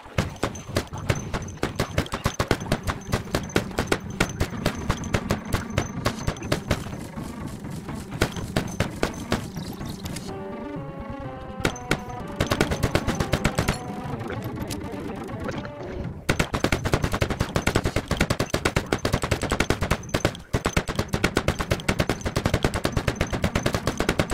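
Video game gunfire at a rooftop shooting range, with rapid automatic bursts and sharp single shots repeating loudly and almost continuously, broken by brief pauses.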